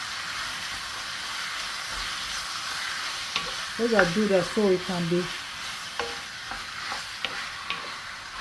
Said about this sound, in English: Just fry the onion a little bit, and now I'm going to add the chicken to it.